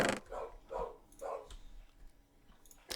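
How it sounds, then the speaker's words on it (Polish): A dog that has just woken up barks three times in quick, evenly spaced bursts, muffled and somewhat distant, followed by quieter scuffling before a final sharp noise. "I chyba pies mi się obudził."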